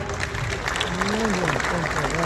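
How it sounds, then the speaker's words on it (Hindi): Applause from the audience at a paint company seminar in Bhilwara, Rajasthan, a steady wash of clapping with a voice running over it. "सबके लिए जोरदार तालियां"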